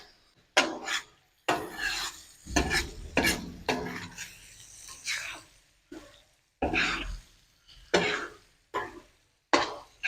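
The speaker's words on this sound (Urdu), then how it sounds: "اب اسے اچھی طرح بھونیں گے" Minced qeema frying with tomatoes on a hot tawa, a metal spatula scraping and stirring in repeated bursts, rasping strokes separated by short pauses, close and loud with no voices.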